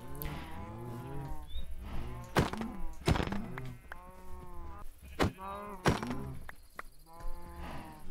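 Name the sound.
cows mooing in a pen in Minecraft video game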